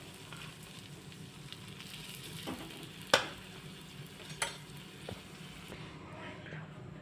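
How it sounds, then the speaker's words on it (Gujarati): Boiled potato sandwich filling being mixed in a pan, heard as a faint, quiet stirring sizzle with a few sharp utensil taps against the pan, one of them louder. "હવે આપણે બધું મિક્સ કરી અને આપણે બાફેલા બટેકા નાખી દઈશું।"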